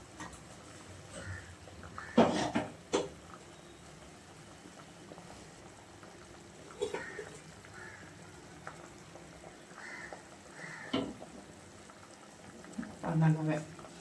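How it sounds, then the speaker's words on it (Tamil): An elephant foot yam curry simmers in a pot, with soft, irregular bursts of bubbling spread over the stretch and a low background hum. A voice is faintly present. "குழம்பு நல்லா கொஞ்சம் கொதிச்சு வத்தட்டும்."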